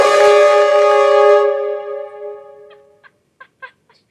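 On a TV game show set, a loud horn blares with a bright, brassy sustained honk for about two seconds, fading away and followed by a few faint short bursts of sound, with no talk over it.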